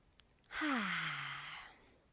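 A single slow, deep breath taken while holding a yoga pose, a soft airy exhale that swells quickly and fades gradually over about a second and a half, close and quiet.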